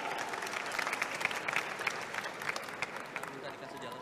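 An Indonesian audience at a crowded public Q&A event claps in steady, sustained applause, with a scattering of louder claps and crowd murmur underneath.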